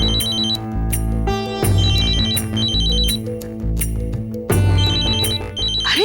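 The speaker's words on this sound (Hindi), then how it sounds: "कब से फोन बज रहा है, उठाती क्यों नहीं बेटा?" A telephone ringtone plays loudly and on its own, a repeating melodic electronic pattern in a household setting, with no voices over it.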